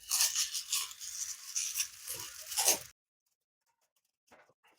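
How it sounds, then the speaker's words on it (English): A San Martin SN004 V2 watch package is unwrapped with close, continuous crinkling and rustling of wrapping for about three seconds, then near silence broken by a few faint handling sounds. "Let's unwrap the watch."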